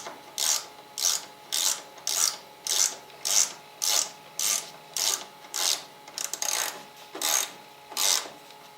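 A ratchet clicks a 12 mm bolt on a Suzuki DR650 motorcycle during a battery change, in about a dozen steady, evenly spaced bursts of close, crisp pawl clicking with short pauses between strokes.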